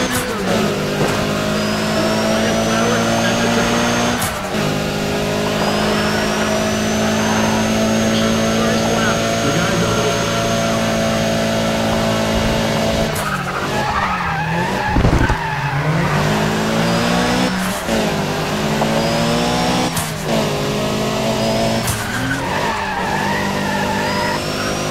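A turbo four-cylinder race car engine in Need for Speed ProStreet revs and shifts through gears, with tire squeals and skids over steady game audio for the whole stretch.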